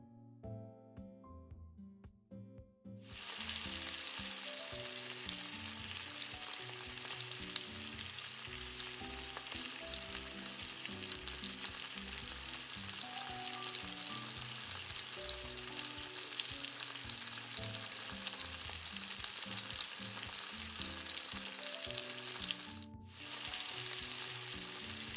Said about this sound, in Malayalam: എണ്ണയിലിട്ട് നമുക്ക് ഫ്രൈ ചെയ്തെടുക്കാം.